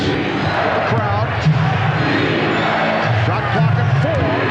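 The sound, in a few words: basketball crowd chanting defense at NBA Finals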